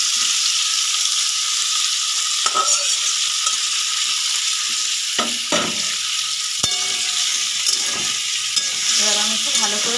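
Boiled vegetables poured with their water into a hot pan for shukto, a loud continuous bubbling hiss and sizzle with scattered spoon scrapes and knocks against the pan; close, without talk.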